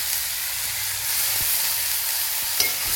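Onions frying in a pan for an onion and tomato gravy, a steady broadband sizzle with occasional stirring knocks, close and continuous with no talking.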